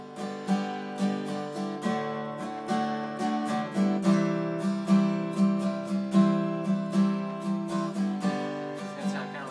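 Acoustic guitar strumming chords in a down, down, up, down, up pattern, repeated steady strokes with clear rhythmic accents over ringing chords, played alone without talk.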